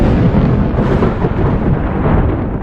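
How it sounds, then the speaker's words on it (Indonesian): A loud thunder strike rolls out as a dense, continuous roar of rumbling noise, steady and close throughout, with no voices. "Bersamaan dengan itu, petir menyambar dengan keras."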